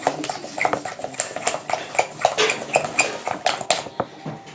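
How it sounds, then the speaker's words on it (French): Chocolate cake batter being mixed in a bowl with a utensil before it goes into an oiled loaf tin: rapid clinking and scraping against the bowl in an uneven, busy rhythm, close and fairly loud. "On mélange une dernière fois pour que la pâte elle rentre bien dedans"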